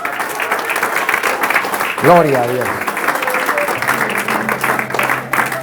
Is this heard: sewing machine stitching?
no